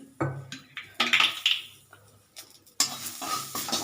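Whole bay leaves, cinnamon sticks and a dried red chili dropped into hot oil, crackling in short bursts, then a louder, sustained sizzle near the end, close up with clinks of a utensil and no talking.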